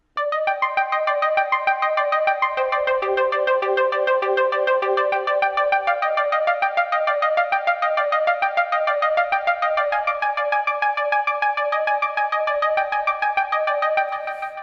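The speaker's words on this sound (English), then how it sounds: "I did a different arpeggio, which sounds like this" A bright synth arpeggio made on a Native Instruments Maschine Micro repeats fast, evenly pulsing notes on its own, loud and clean against a silent background, for about fifteen seconds.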